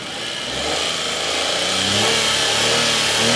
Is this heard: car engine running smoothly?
yes